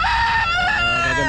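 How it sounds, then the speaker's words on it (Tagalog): A rooster crows loudly and close at a pet market, one long strained call that rises and wavers, with background noise underneath. "Gaganda manok niya."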